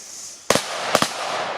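Two sharp close firecracker bangs from Thor P20 or P30 petards, loud cracks a fraction of a second apart over quiet outdoor background.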